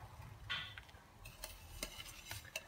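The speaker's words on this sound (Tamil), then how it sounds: "அப்படியே கிண்டி விட்டுக்கிட்டே வாங்க." Scraping and stirring semolina in a pan, with soft clicks of a spoon against metal and a faint sizzle underneath, no voices.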